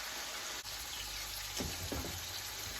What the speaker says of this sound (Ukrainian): Смажилась наша печінка з однієї сторони